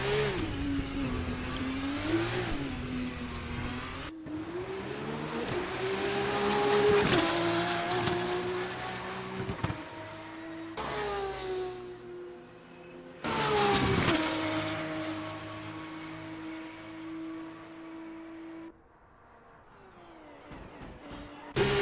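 Formula race cars in a Monza Grand Prix qualifying session of a racing video game, engines howling loudly through repeated upshifts and revs, with gear-change dips and a car passing near the end, no talking.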